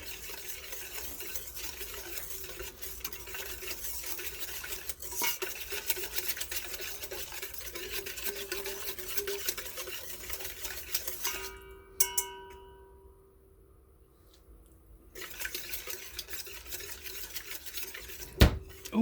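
Barbecue marinade ingredients, including ground black pepper, being stirred together in a bowl, a steady scraping and sloshing that runs throughout, breaks off briefly near the end, then resumes with a sharp knock.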